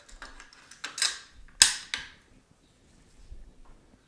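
An AR-15 rifle's bolt carrier and charging handle are slid back into the upper receiver, making a few close metallic clicks and scrapes with one sharp snap in the middle, then quiet.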